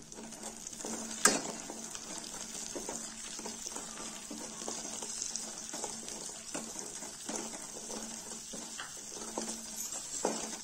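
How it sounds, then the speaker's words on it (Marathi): Ground spices such as red chilli and coriander powder sautéed in oil for Bhogi bhaji, a soft continuous sizzle with occasional spoon scrapes and a sharp clink early on, no talking. "हे सर्व मसाले चांगले परतून घेऊ।"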